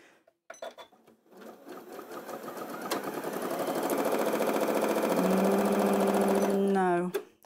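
An Elna sewing machine run with the knee lifter stitches in a fast, steady mechanical whir that builds up and then stops, preceded by a few clicks and handling knocks.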